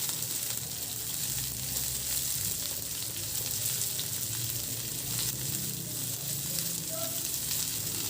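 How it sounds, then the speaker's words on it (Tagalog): Garlic and onion sauté in a frying pan for adobong sitaw, giving a steady, close hiss of oil that holds evenly throughout with no voices. "igisa ko na rin yung bawang"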